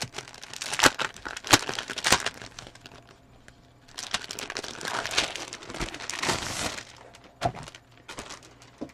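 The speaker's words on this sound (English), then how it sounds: "Again, sorry for the crinkling." Plastic packaging around sheets of floral scrapbook paper crinkles and crackles loudly and close up, in dense bursts with short lulls, with no talking.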